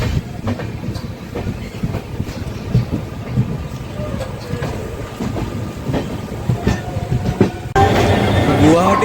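Kamrup Express pulling out of Kamakhya Junction, a steady rumbling train ride with repeated clickety-clack of wheels over rail joints, loud and continuous from inside the carriage, swelling louder near the end.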